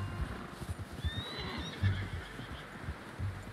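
A horse whinnies in a Wild West video game, a rising shrill call over a steady backdrop of low rumbling hoofbeats and ambient noise, moderately close.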